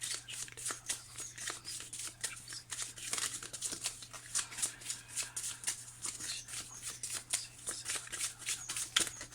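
Tarot cards being shuffled and drawn by hand, a rapid run of close, crisp riffling flicks and slides in quick bursts over a low hum, with no talk.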